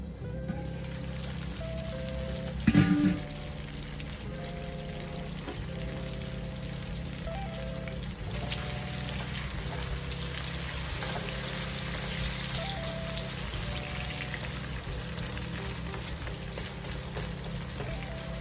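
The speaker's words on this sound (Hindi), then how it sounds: "अब टमाटर को सॉफ्ट होने तक मैं इनको पकाती हूँ।" Tomatoes simmer and sizzle in a pan until soft, a steady bubbling hiss with a brief clatter near the start, backed by a low repeating music loop.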